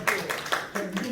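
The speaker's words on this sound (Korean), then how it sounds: "박수 한번 쳐주시죠" An audience at a seminar marking the 60th anniversary of the April 19 Revolution claps in a few scattered bursts, moderately near and modest in size.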